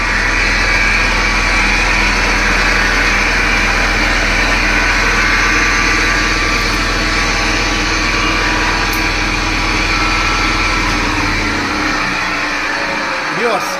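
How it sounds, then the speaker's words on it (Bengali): A chicken feed making machine runs loud and steady, a continuous mechanical hum and whir with a strong low drone that drops away near the end. "ইনশাল্লাহ অনেক সুন্দর চলতেছে মেশিনটা, খুব স্মুথ চলতেছে।"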